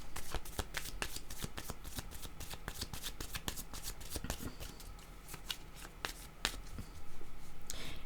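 Tarot cards are shuffled and handled close up, with a quick irregular run of crisp riffling flicks and snaps over a quiet room and no talk.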